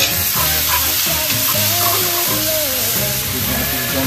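Garlic and onion sauté in a hot pan for menudo, a steady loud sizzle and hiss with faint stirring scrapes, no talking.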